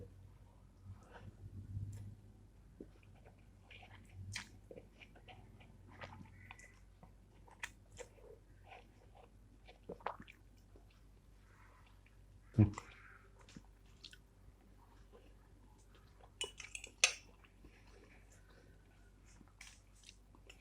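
Someone chews Bon Cabe spicy instant noodles close up, quiet irregular wet chewing and soft crunching with occasional louder clicks, with talking in between.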